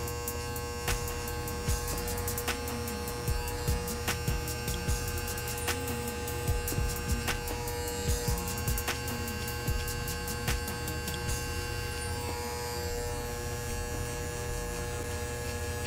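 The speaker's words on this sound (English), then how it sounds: "if you're angling a clipper this way, you're not gonna really make a big indent" An electric hair clipper buzzes steadily for a low skin fade haircut, a close mains-pitched hum broken by short repeated clicks and scrapes as strokes cross the hair.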